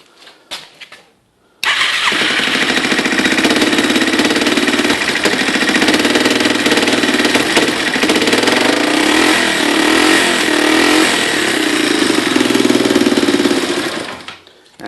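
A Yamaha TW200 motorcycle, fitted with a GY6 CDI unit, cranks briefly, then catches and settles into a loud, steady idle close by that runs for over ten seconds before cutting off abruptly.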